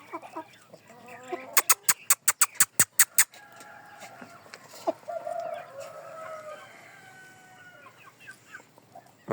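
Chickens cluck and a rooster crows on a farm, with young chicks of the rooster among the hens; a fast burst of sharp, repeated clucks gives way to softer, continuous squawking and chatter close by.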